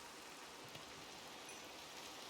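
Steady rain in Minecraft, a dense even hiss of falling drops that holds at constant strength throughout, with no voices.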